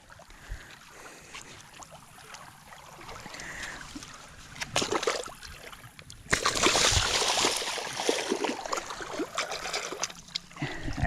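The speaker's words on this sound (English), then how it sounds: "Let's get it back in the water and try to get another one." A channel catfish is let go into shallow water, with trickling and splashing that builds to a louder, sustained burst of splashing partway through, close to the listener.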